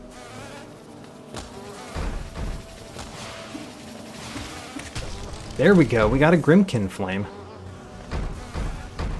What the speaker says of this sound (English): So I want to defeat one of the cannon bees next.